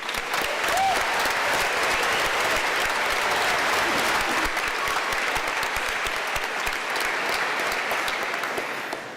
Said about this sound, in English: How about another round of applause for Mr. Jack Spicer, our MC?